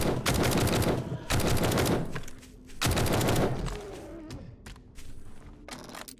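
Gunfire aimed at zombies in the video game 7 Days to Die comes in several loud, rapid automatic bursts separated by short gaps, with the later bursts choppier and sparser.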